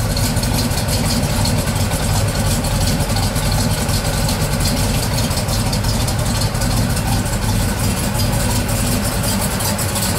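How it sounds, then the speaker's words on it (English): A 1970 Chevelle SS V8 engine idling with its exhaust rumbling, a loud, steady, deep throb held evenly throughout with no revving and no voices. "You can hear the exhaust."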